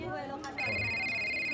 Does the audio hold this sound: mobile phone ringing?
yes